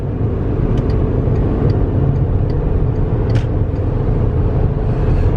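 Loud, continuous drone of a V8 Volkswagen Touareg engine under load while towing uphill, shifting from third gear at high revs into fourth, with the pitch settling steadily and no talking.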